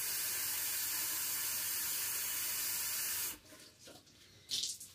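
Cold tap water gushes steadily for about three seconds while being drawn to add to a crockpot butter chicken, then cuts off, followed by a few faint kitchen clatters.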